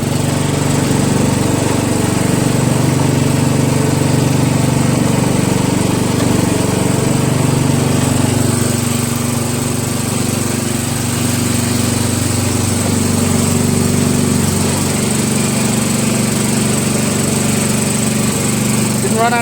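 An MTD Cub Cadet lawn tractor with hydrostatic transmission runs close by, its small engine giving a loud, steady drone for the whole stretch with only slight dips in pitch.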